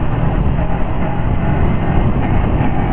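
KOVE 321R motorcycle engine running in fourth gear, a steady, loud drone mixed with heavy wind rush and no clear rev swings.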